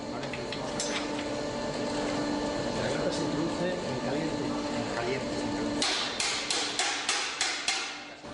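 A blacksmith hammers an iron grille made in the Romanesque manner, with clamps in place of welds. The strikes ring steadily over background noise and come as a clear run of sharp, evenly spaced blows near the end.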